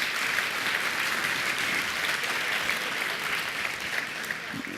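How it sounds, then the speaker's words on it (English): An audience at a tech conference talk in Thessaloniki, Greece, gives a sustained round of applause, even and fairly distant, continuing for several seconds with no one speaking. "can I request another round of applause for you, Greece?"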